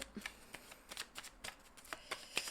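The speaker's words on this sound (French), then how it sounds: "je vais tirer la carte" A tarot card drawn from the deck gives a quiet run of papery flicks and slides, several short card snaps spread across a couple of seconds with no talking.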